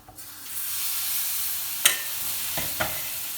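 Syrup poured into cooking milk and flour halva sets off a steady hissing sizzle, joined by a few sharp clinks of a utensil against the pan.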